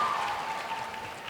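An audience at a college event gives a round of applause, a dense, even wash of clapping hands that holds at a moderate level for a moment.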